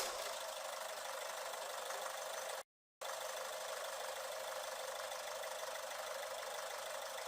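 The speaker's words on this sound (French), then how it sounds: "Je n'ai plus qu'à mettre en route le moteur et observer ce qu'il se passe." A car engine runs steadily at idle during an injector correction check, a continuous buzzing drone with a faint knocking texture, briefly cut out near the three-second mark before resuming unchanged; no voices.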